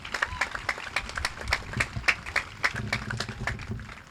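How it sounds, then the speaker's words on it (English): Graduation ceremony crowd applauding the students, a dense patter of many hands clapping steadily for about four seconds, with faint voices mixed in. "May I have another round of applause for Alana, Riley, Vlad, Arislani, all of the students making this such a special ceremony"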